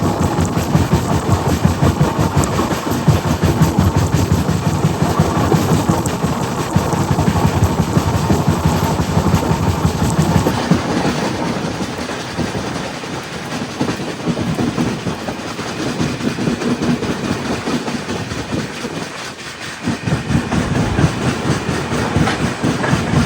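The 16316 Thiruvananthapuram North–Mysuru Express runs at speed on the rails, a loud, continuous rumble with rhythmic clickety-clack heard from on board, with no talking.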